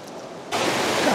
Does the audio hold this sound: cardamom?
no